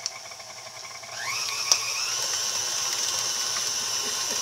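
A stand mixer's paddle beats pumpkin cheesecake batter, its motor rising in pitch as the speed is turned up, then holding a steady, close whir with a faint slapping undertone.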